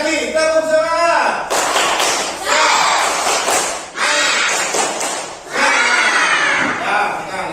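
Pupils in a classroom repeat the tepuk semangat routine, patterned rhythmic clapping mixed with loud chanted voices, close and lively, in several quick bursts.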